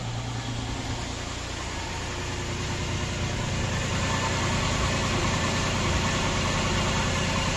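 A Volkswagen Touareg 3.6 FSI engine idles steadily and close after a cold start, a dense even rumble with a faint rhythmic knock, no voices.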